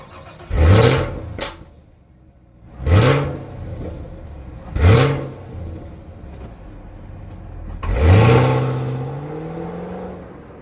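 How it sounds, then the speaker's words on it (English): A Chevrolet Camaro SS's 6.2-liter V8 engine revs hard four times, each burst rising in pitch and then dropping away, with quieter idle rumble between the loud pulls. "Let's take this car for a ride."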